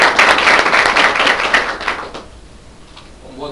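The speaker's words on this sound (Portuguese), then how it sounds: "Uma salva de palmas, por favor." Loud audience applause at an academic panel on Brazil and international law and relations, dense at first, then thinning out and dying away to a few scattered claps and room noise.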